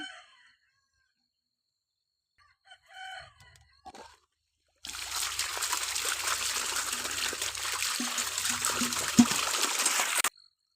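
Water pours steadily in a broad hissing stream into a five-litre vessel for several seconds, preceded by a few soft knocks and then near-silence.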